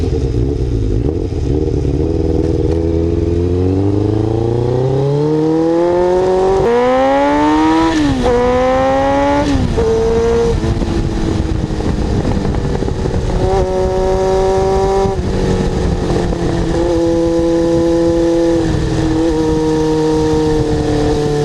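1989 Kawasaki GPX750R motorcycle, a retired track bike, ridden on the open road, its engine revving up through several gear changes and then holding a loud, steady drone under strong wind rush.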